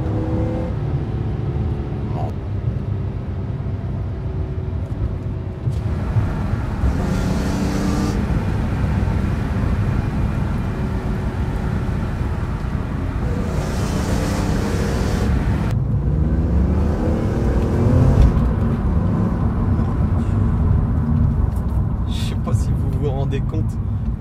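A BMW M3 E46 accelerates hard while driving, its engine revving up and down in several loud surges across the run, with a person talking intermittently over the engine noise.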